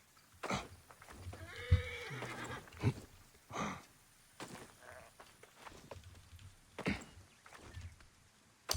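A horse in a video game neighs loudly in a long, wavering whinny, followed by scattered hoof thuds and short bursts of game noise against a quiet background, with no speech.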